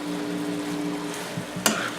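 Thin strips of steak for a Philly cheese steak sizzle in a pan, a steady close hiss with a faint hum beneath and a brief scrape and clatter of stirring near the end.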